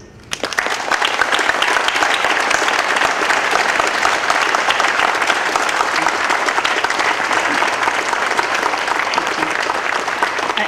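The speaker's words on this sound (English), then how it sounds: "I timed this, and there isn't supposed to be applause" Sustained audience applause fills a hall at a college president's installation ceremony, starting abruptly and holding steady and dense throughout without pause.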